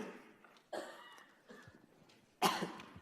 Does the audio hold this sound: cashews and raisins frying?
no